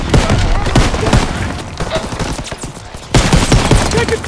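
Battle of the Bulge combat in Call of Duty: WWII, with dense, loud gunfire as rapid overlapping shots and bursts, under shouted voices.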